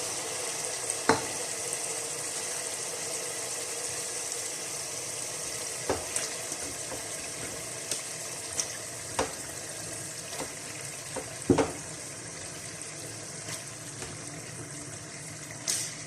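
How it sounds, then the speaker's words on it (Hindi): Meat for nalli nihari fries in masala with a steady soft sizzle, close and quiet, broken now and then by sharp clinks and scraping stirs from a spoon in the pot. "गोश्त शामिल करने के बाद अच्छा सा इसको भूनेंगे और फिर गलने के लिए रख देंगे।"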